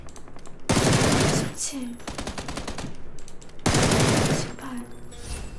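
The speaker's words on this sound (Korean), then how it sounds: "그 총소리도 많이 구분해서 너무 좋은데" Rapid bursts of automatic gunfire and single shots from a military shooting game's training range, loud and close, with a short pause between the two main volleys and brief chatter in between.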